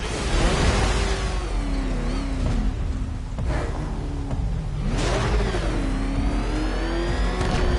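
A car engine revs and accelerates in a Batman video game race, pitch sweeping up and down through gear changes. The engine note stays loud and near, with a sustained roar and no talking.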